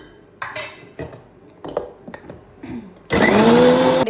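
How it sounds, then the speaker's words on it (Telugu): A kitchen mixer grinder bursts into a loud, steady whirring grind of a smooth paste after a few clattering handling knocks and taps. "సో మనం మెత్తగా మిక్సీ పట్టాలన్నమాట, కొంచెం గ్రైండ్ అవ్వాలి."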